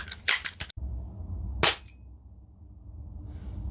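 A vintage 1991 Crosman 1322 Medalist air pistol, a phase 2 model, fires pellets: four sharp, close cracks, three packed together in quick succession and a fourth after a short pause, over a quiet background.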